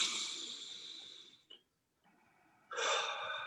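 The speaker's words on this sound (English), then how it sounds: "just take that deep breath" A deep breath drawn in and released as a calming exercise, a long airy inhale, a brief silent hold, then a strong breathy exhale, close and unaccompanied by talk.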